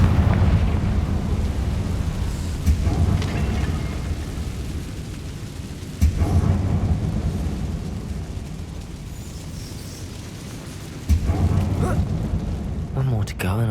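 Blasts from the Confringo fire spell in the Hogwarts Legacy video game: three loud, booming bursts, each followed by a rumbling roar that slowly decays.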